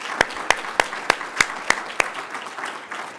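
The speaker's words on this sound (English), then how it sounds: "Let's give him another round of applause." Conference audience at a research showcase plenary session clapping after a keynote, a handful of sharp, evenly spaced claps standing out over a soft background.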